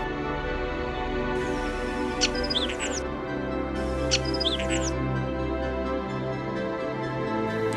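Starlings sing in spring in two bursts of chirping, whistling calls that stand out over a steady low background hum.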